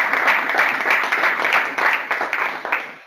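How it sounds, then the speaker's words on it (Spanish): Applause from attendees at a business energy communities conference, a fairly small group clapping in a lively, uneven rhythm that stays close and loud for a few seconds. "te mereces un aplauso"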